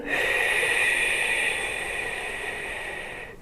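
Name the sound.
breathing out during a pelvic floor exercise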